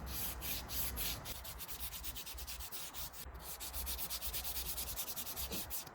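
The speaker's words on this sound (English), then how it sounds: "get a piece of sandpaper and start sanding it just as you see in the video" Rhythmic back-and-forth scraping of sandpaper on a Volvo S60 D4 injector tip, close and steady, with quick strokes repeating throughout and no talking.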